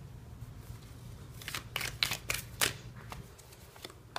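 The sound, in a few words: shuffling tarot cards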